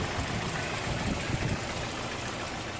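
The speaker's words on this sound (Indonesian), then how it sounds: "saat selang kita sumbat dengan jari, suara mesin normal" Idling engine of a Toyota Corolla DX, running steady with a vacuum hose blocked off, a continuous close rumbling hum with no talk over it.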